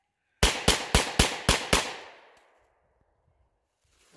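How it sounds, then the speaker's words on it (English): A Stribog SP9A1 carbine fires six rapid shots outdoors at a range. The reports are sharp, loud and evenly spaced, and a short echo tails off afterward. "I know I pulled a few shots"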